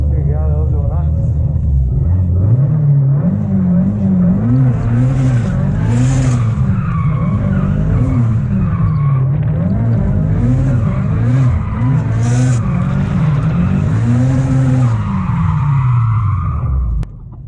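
A loud Mitsubishi Lancer Evolution VI engine revs and swells repeatedly as tires skid and squeal in donuts on a circuit, with voices talking over the roar throughout.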